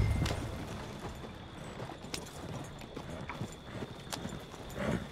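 Horse hooves clip-clop steadily as a team pulls a coach in the video game Red Dead Redemption 2, with a continuous rumbling under the beat and a few sharper hoof strikes standing out.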